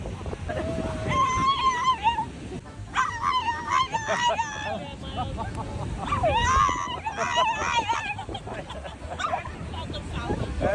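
A dog barks and whimpers repeatedly in high, yelping cries, close and insistent, with a background murmur of voices throughout.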